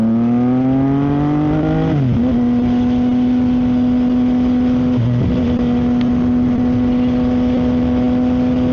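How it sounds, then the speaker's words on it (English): A CFMOTO 675SS sport motorcycle fitted with an ECU tune makes a short acceleration pull, its engine note rising in pitch, dipping at a gear change, then holding a loud, steady, high drone close to the rider. "I did a little mini pull there"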